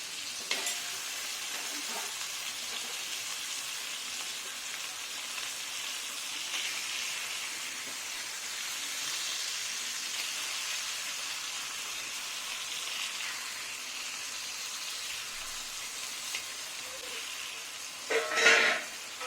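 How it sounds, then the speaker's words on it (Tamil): Spicy lady fish fries in a pan, a continuous soft sizzle and crackle of hot oil with a brief louder stir near the end. "நல்லா ஸ்பைசியான ஃபிஷ் ஃப்ரை ரெடியாக போகுது."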